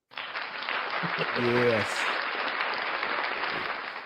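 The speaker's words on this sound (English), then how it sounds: "Round of applause for all the people tuning in" Applause for people tuning in to a live show, a burst of clapping and cheering that swells and holds steady for a few seconds, with a brief spoken word near the start.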